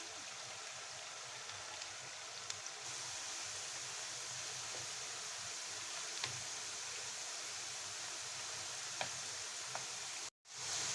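Potatoes frying in a pan give off a faint, steady sizzle with soft crackles, heard alone and continuous until a brief cut near the end.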